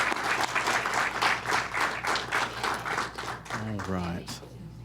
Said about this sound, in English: we'll give them another round of applause here